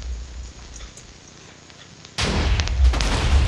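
TNT blows up in Minecraft: after a quiet stretch, a sudden loud blast hits and rolls into a sustained rumbling, crackling roar with further booming bursts.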